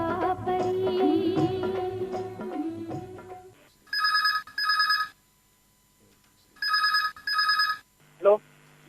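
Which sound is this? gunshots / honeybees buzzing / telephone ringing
telephone ringing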